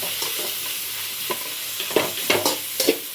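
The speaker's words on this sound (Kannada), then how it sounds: "ಸ್ವಲ್ಪ ಹಸಿ ಟೊಮೆಟೊದಲ್ಲಿ ಹೋಗೋವರೆಗೂ ಫ್ರೈ ಮಾಡ್ಕೊಳ್ಳಿ." Tomatoes stir-fried in a pan give a continuous sizzle and hiss, broken by several sharp scraping and clattering stirring strokes that grow louder toward the end, heard up close with no speech.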